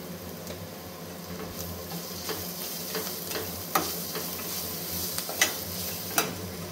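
Garlic paste sizzling and frying in a pan over lowered flame, with a spoon stirring and scraping now and then, giving a few sharp clicks against the steady soft hiss.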